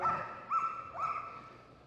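A police dog gives three short, sharp barks about half a second apart, fairly close, with a faint tonal whine lingering between them, during a police dog display at Crufts 2014.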